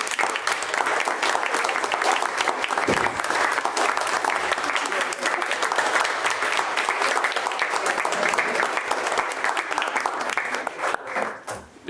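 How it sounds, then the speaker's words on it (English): Sustained applause fills a city council meeting room as attendees clap for a committee, dense and steady for most of the stretch before tapering off near the end. "Can we give the committee an applause,"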